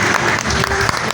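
Audience applause welcoming a regional head onto the stage at a Brighto Paint party celebration, dense and steady clapping throughout, fairly loud and close.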